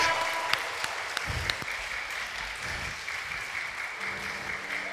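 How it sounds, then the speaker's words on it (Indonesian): Young primary-school children clap for God at an Easter school service, producing lively, fairly loud applause with a few sharper individual claps standing out. "Kasih tepuk tangan buat Tuhan."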